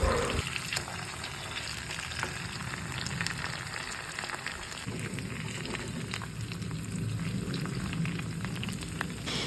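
Boal fish pieces fry in a thick spice paste, giving a continuous close sizzle with small clicks and scrapes as they are gently turned over in the pan.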